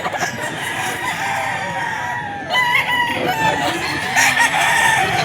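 A green-legged bulik gamefowl rooster crows loudly and close, with a drawn-out call followed by a second crow amid clucking and farmyard noise.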